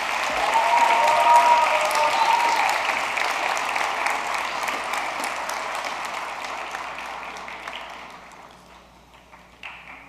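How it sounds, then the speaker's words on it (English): An audience at a high school World Language National Honor Society induction ceremony claps for honored students, steady dense applause that starts strong and gradually thins and fades toward the end. "May we please hear a round of applause for the accomplishments of these students."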